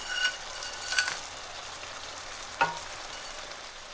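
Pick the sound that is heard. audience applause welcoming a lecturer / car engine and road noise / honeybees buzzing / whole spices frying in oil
whole spices frying in oil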